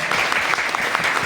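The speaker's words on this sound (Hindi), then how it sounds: "तो कहीं ना कहीं सर के लिए एक बार जोरदार तालियां बनती हैं।" Audience at a railway engineering staff gathering in Vadodara breaks into strong, steady applause, a dense, close wash of clapping with no talk.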